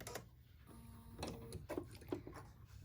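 Sewing machine whirring briefly as its needle is cycled down and back up, giving a few short mechanical runs and light clicks, close but faint, without speech.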